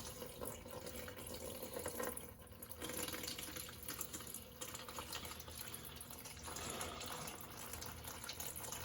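Coolant drains out of the radiator of a 1998 Toyota 4Runner during a radiator replacement. The fluid makes a continuous gushing, splattering flow that stays fairly steady and moderately faint.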